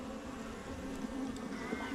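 Honeybees buzz steadily during a hive inspection, a close, even hum with faint rustles of handling over it.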